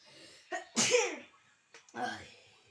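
A person sneezes once or twice in quick bursts, each sharp and close, separated by short pauses with light breathing, during a Poppy Playtime gaming session.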